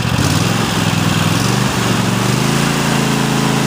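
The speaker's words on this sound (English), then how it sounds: "Go ahead and give you a shot of the engine" A Cub Cadet XT1 lawn tractor engine runs loud and close, rising in pitch as it revs up from idle, a steady droning roar lasting several seconds.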